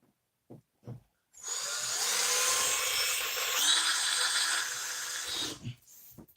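A power drill whines steadily for several seconds as it drives screws through hardboard, close and continuous, with a slight strain midway and short knocks before and after the run.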